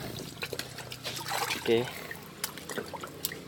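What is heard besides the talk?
water rinsing a watermelon clean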